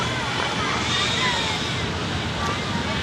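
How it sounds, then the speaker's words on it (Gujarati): Steady rain falling on a city rooftop during a storm, a dense, even hiss with no breaks, close and fairly loud throughout. "મિત્રો, વરસાદ ચાલુ થઈ ચૂક્યો છે."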